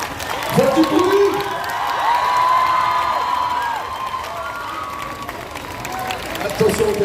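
A fan festival audience in Paris cheers, shouts and claps in a sustained, lively swell that stays loud throughout, with a few voices rising above the crowd.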